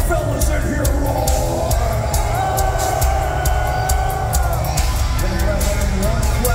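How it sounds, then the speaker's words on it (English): Men in a metal concert crowd at a show in Bethlehem, PA roar and yell together, a loud continuous mass of shouting that swells through the whole stretch. "Now let me hear all the fellas in here roar."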